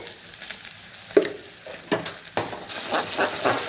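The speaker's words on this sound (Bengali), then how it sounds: "খুব সুন্দর করে ডিমটাকে নাড়াচাড়া করে আলু পেঁয়াজের সাথে মিশিয়ে আবারও সুন্দর করে ভালো ভালো করে নিতে হবে" An egg is stirred into potatoes and onions frying in a pan, a soft steady sizzle under sharper scrapes of the spatula that grow busier and louder toward the end.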